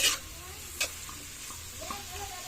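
Coconut pith (ubad ng niyog) frying in a pan gives a soft steady sizzle, broken by a few sharp scrapes and clinks as it is stirred, close and fairly quiet.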